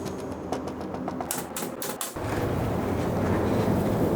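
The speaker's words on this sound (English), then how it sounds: "taking some 5/8 inch nails and shooting it into the frame" A nail gun drives 5/8 inch nails into a wooden desk frame with a few quick, sharp clacks. A steady broadband rush follows.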